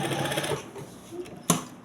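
A sewing machine stitches a border strip onto a summer neckline, its rapid mechanical whir running close up before it stops, followed by a sharp click.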